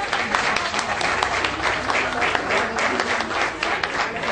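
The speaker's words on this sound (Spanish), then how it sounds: "les voy a pedir un fuerte aplauso" A crowd gives sustained, loud applause for a youth orchestra at a Day of the Dead event at the Museo Panteón San Fernando, dense clapping that continues evenly with some voices mixed in.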